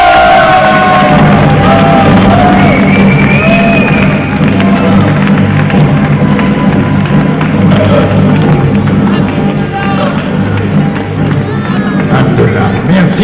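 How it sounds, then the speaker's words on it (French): A live comedy show audience in full roar, loud sustained crowd cheering, whooping and shouting with dense babble throughout, close and continuous. "Merci pour vos applaudissements nourris."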